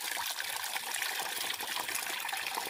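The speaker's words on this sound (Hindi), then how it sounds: "इसको धो लें फिर पानी डालें इसमें" Fresh water pours and trickles continuously into a washed chicks' drinker, a close, splashy stream of liquid with no speech.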